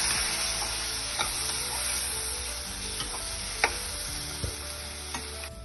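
Semolina, grated coconut and milk being stirred and roasted in a pan: a steady close sizzle with scattered scrapes and light clicks of the spoon, no talking.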